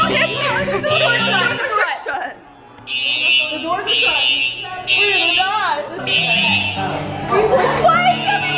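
A fire alarm blares in repeated pulsing bursts while several people talk and shout excitedly nearby, the alarm tone cutting in and out over the chatter.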